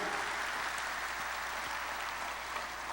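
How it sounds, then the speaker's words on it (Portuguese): A church congregation applauds together in a dense, steady wash of clapping that holds evenly from start to finish without a break. "Aplauda o Senhor"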